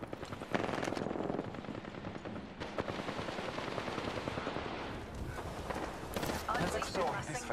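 Gunfire in a shooter video game with a 30-30 rifle: rapid, dense bursts of shots rattling throughout, fairly faint and mixed with busy in-game noise.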